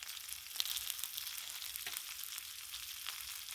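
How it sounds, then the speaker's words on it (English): Bacon sizzling and frying on a Blackstone griddle, a steady close crackle with fine popping spatter running throughout, no voices. "And bacon continues to cook, so keep that in mind."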